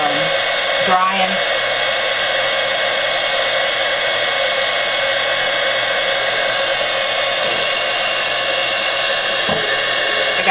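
Hair dryer blowing steadily and loudly at close range, drying craft decoration on a distressed cardboard birdhouse, a continuous even whoosh with no break.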